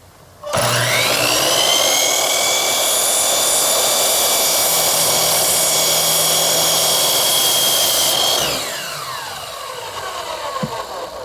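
A power saw cuts the end off a piece of wood: a loud, steady motor whine runs for about eight seconds, then winds down and fades as the blade spins to a stop.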